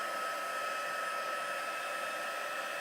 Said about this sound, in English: I'm just embossing that. There we go. So forgive the noise.